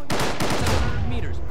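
Suppressing gunfire in the video game ARMA 3 comes as a loud, close burst of rapid shots with echoing reports trailing off over a second and a half.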